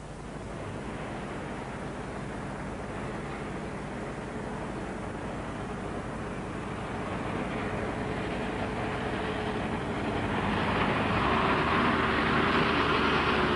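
A 1986 Land Rover leaves tarmac and rolls down a loose track, its engine drone and the crunch and rumble of tyres on loose ground forming a steady noise that grows louder and brighter toward the end.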